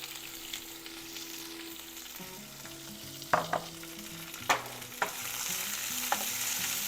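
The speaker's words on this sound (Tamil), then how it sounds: "இந்த மிளகாவை சேர்த்துட்டு நல்லா வதக்கிக்கலாம்" Bajji chillies sauté in a pan as a steady oil sizzle, broken by a few sharp scrapes and knocks of stirring, fairly close, with no voices.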